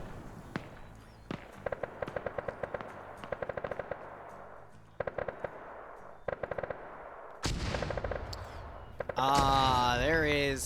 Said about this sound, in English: 4 mortars coming in on Blue 4's own position